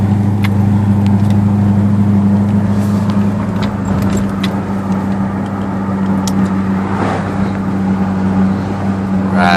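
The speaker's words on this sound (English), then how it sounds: "Hear the whine of the turbo." A turbocharged 2009 Jeep SRT8 making about 505 wheel horsepower drones steadily up close with a strong low engine hum, a faint whine riding above it throughout.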